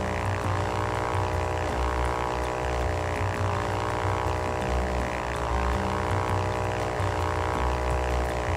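A propeller aircraft flies in the Ultrawings flight game with a steady, dense engine drone and buzzing prop hum, constant and close, with no other sounds on top of it.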